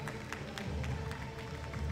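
Applause from the audience at a European U-23 team fencing championship: a faint, distant patter of many hands clapping, with crowd murmur mixed in.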